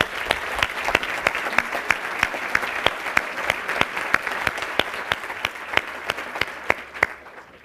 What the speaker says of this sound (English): give yourselves a big round of applause for all of your efforts and achievements